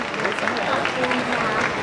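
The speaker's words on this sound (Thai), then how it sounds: "ขอเสียงปรบมือให้กับทุกคนบนเวทีเลยนะครับ" A crowd at a Kodomo baby-product stage event with family presenters applauds people on stage, a brisk, even wash of clapping heard close and steady, with a voice talking faintly beneath it.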